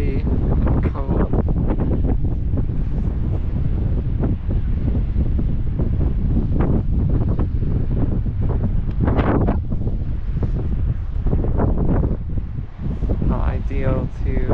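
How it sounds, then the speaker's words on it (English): Cold wind buffets the microphone in a constant low roar on Tresco in the Isles of Scilly, with a person talking intermittently underneath throughout. "And it's still windy and cold."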